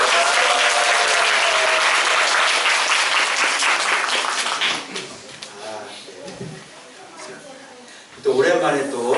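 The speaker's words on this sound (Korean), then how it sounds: "예비 신랑 신부가 우리 박수로 환영해요" A church congregation applauds to welcome an engaged couple, with dense clapping that fills the first half before thinning out. Scattered claps and murmuring follow, and the applause swells again briefly near the end.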